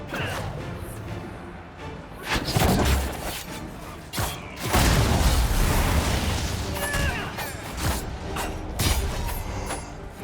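A trebuchet firing in the Dragon Age Inquisition video game during a siege: creaking wooden mechanisms, then heavy booming impacts and crashing rumbles in several loud surges over dense battle noise.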